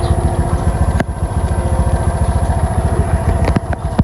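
A motorcycle parked outside a resort, its engine idling close by with a steady, rapid, throbbing putter, plus a few sharp clicks and knocks over it.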